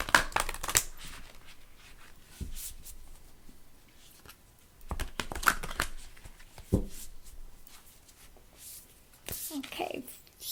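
Oracle cards are shuffled by hand in quick riffling bursts with soft papery slaps, close and fairly quiet, with pauses between bursts and occasional speech.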